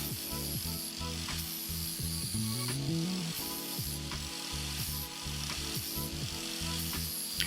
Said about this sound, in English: I then use the same flap disc to rough in the profile of the knife